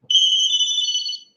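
A phone rings with an incoming call: one steady, loud electronic ringtone of about a second, two close bright pitches held together, with no talking over it.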